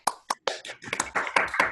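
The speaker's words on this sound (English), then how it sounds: "let's briefly unmute yourself and applaud" An online audience applauds over a video call, a few separate claps at first, then building into scattered, thin clapping from several unmuted participants.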